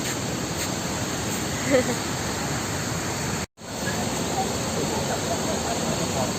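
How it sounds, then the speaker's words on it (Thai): A waterfall at Khao Yai pours out a constant broadband roar of rushing water, broken by one brief dropout midway, with faint voices briefly audible under the flow. "น้ำตก น้ำตกใช่แล้วครับ"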